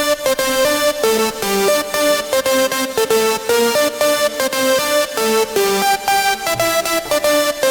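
Two layered Angelcore synth leads, one built from a vocal sample and the other a simpler lead, play a bright, rhythmically stuttering melody together, loud and alone throughout with no voices.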